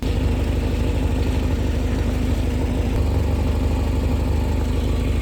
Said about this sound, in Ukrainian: зрозумів, чому так гучно працює мотор